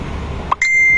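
A cellphone beeps: one short tone, then a sustained higher electronic beep that continues to the end, loud and close over steady background noise.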